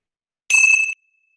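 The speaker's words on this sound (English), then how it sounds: "I'm going to close with the ringing of the bells of hope." A single clear bell strike during a closing meditation, bright ringing tone sounding alone in silence and cut off after about half a second.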